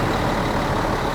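A Rimba Raya Legend premium coach pulling away, its heavy diesel engine rumbling loud and close in a steady, dense roar with no talk over it.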